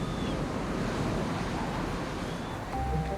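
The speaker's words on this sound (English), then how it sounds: "They must find their way to the sea using the sound of the waves" Continuous roar of ocean waves and surf on a beach at night, steady and full, with some wind noise and no voices.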